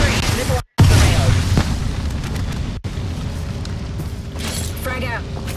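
A grenade blast in the battle-royale shooter Apex Legends: a heavy, close boom right after a brief dropout, rolling into a dense, loud rumble of game noise and voices that continues throughout.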